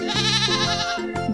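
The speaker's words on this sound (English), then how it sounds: "Look at this cute goat." A goat bleats up close, one loud, sustained, wavering call followed by a shorter second bleat, with no other sounds around it.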